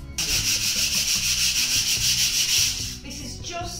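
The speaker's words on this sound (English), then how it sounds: "I just keep basically keying the furniture with the sandpaper, so the paint will adhere to it so much better." Hand sanding a wooden corner glass cabinet with folded sandpaper to key the surface before chalk paint: close, rapid back-and-forth rasping strokes in a steady rhythm, easing off near the end.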